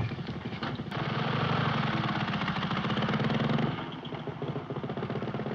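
A motorcycle with a sidecar in the 1933 Marx Brothers film Duck Soup: a steady, fairly close engine idles and putters, swelling for a few seconds, then settles back to a lower rumble.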